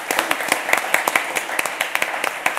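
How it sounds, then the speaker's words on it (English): Audience applause for the panelists at the close of a microenterprise-finance conference session, steady crisp clapping from a room of people, fairly loud and continuous with a few sharper claps standing out. "please join me in giving a round of applause to our panelists"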